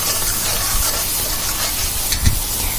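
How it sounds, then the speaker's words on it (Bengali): Spiced masala paste for a Bengali fish curry with potato and teasel gourd fries steadily in a pan, a continuous broadband sizzle and hiss with a brief louder spatter near the end, no talking. "মশলাটা দিয়ে ভালোভাবে রান্নাটা অর্থাৎ মশলাটা কষিয়ে নেব"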